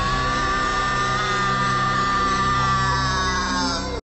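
A cartoon character from Disney's Recess lets out a long, sustained, loud scream, a strained tonal yell held for about four seconds before cutting off abruptly.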